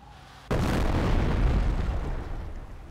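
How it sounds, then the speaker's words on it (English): An incendiary barrage from a mortar half-track in the video game Company of Heroes lands with a sudden loud explosion that rumbles deep and then slowly fades, heard alone without talk. "Order the mortar half-track to fire an incendiary barrage at the enemy infantry squad."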